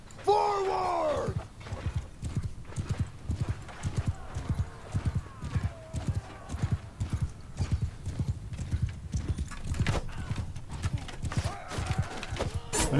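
Horse hooves pound in a steady rhythmic gallop during a cavalry charge in Mount & Blade II: Bannerlord, with a horse whinny at the start and faint battle shouts and clatter underneath.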